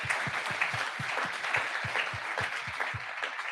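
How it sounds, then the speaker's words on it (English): Applause from the audience at a startup demo day as winners are announced, a busy spread of clapping over a steady rhythmic thump that beats about three times a second underneath. "Applause."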